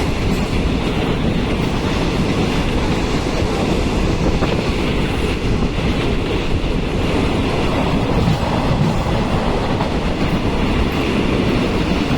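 An ordinary passenger train, number 252, stops at Nakhon Pathom station with a loud, steady rumble of rolling rail cars and a faint clatter of wheels throughout, with no voices.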